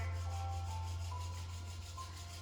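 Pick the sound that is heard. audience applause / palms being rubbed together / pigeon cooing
palms being rubbed together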